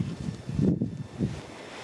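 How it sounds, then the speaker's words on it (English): Wind gusts across a garden on a cold, windy day while pea frames are being built, a low steady rush and buffeting on the microphone that swells in the middle, close and fairly quiet with no talk. "Now it's getting windy, it's cold as well."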